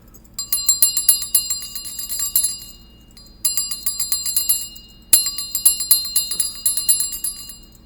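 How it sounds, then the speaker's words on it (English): A bicycle-style bell trills in three quick bursts of rapid, bright dings, close and loud, with short silent gaps between them. "I'm trying to get used to the sound of my bell."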